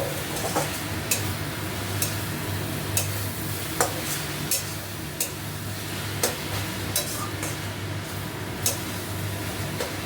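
Kalmi greens (water spinach) frying in a pan and stirred by hand, with a steady sizzle and sharp, irregular scrapes and taps of the spatula against the pan every second or so, close up and free of talk.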